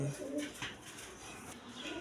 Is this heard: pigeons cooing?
yes